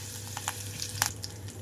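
Mustard seeds, cumin, dried red chillies and curry leaves sizzle in hot oil for a tempering, giving a steady frying hiss broken by several sharp pops and crackles as the seeds burst.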